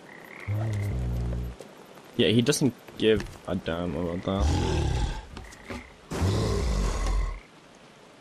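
Frogs in the video game Papo & Yo give deep, rumbling croaks, a long low one first and then a string of louder guttural bursts, with someone speaking briefly between them.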